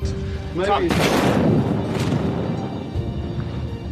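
A landmine goes off under a soldier's foot in a desert war film, one loud, close blast that booms and then rumbles as it decays over a few seconds. The blast sits over a backdrop of dramatic film sound.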